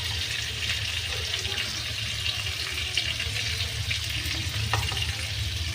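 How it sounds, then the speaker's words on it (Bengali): Potatoes frying in a pan for a prawn and potato kosha, a steady close sizzle with light scraping and stirring throughout, no talk. "যতক্ষণ না পর্যন্ত আলুটা খুব লাল করে ভাজা হচ্ছে ততক্ষণ কিন্তু আমি আলুটাকে এরমভাবে ভাজতে থাকবো"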